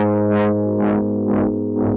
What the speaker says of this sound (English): I'm going to use chroma console on the bass strings of my harp for fuzz and tremolo.